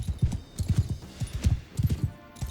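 Horse hooves clip-clopping steadily in Mount & Blade II Bannerlord, a close, rhythmic run of low thuds in quick groups with brief gaps, no talk over them.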